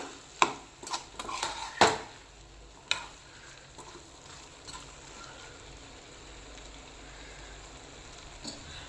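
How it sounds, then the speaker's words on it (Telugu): Prawns frying in a pan with freshly chopped coriander and mint are stirred, giving a few close spoon clatters and scrapes at the start, then a soft, steady sizzle with an occasional faint tap. "సన్నగా కట్ చేసుకున్న కొత్తిమీర పుదీనా వేసుకొని ఒకసారి కలిపెట్టుకుందాము"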